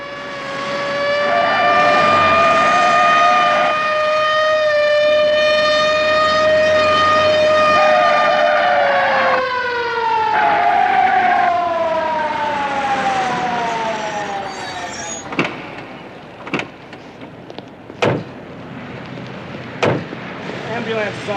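An ambulance siren wails loudly and steadily, its pitch sliding downward, then gives way to several sharp, isolated bangs in quick irregular succession.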